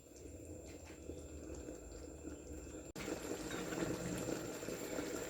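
Picadillo simmering in a pot, a soft continuous bubbling and hiss, faint and close, that grows slightly louder after a brief dip midway.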